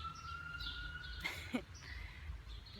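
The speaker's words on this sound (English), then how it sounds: "Blessings on whoever the siren's for." A faint, distant siren wails steadily through quiet outdoor ambience, with a few soft bird chirps around it.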